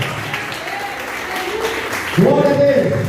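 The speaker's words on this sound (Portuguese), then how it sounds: "aplauda o Senhor" A church congregation claps through a praise moment, the dense applause rising noticeably louder toward the end, with voices and a sustained tone mixed in.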